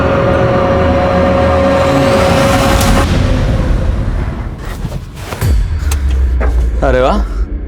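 A car engine runs with a loud, steady rumble as the vehicle drives, then eases off briefly before picking up again while people talk over it.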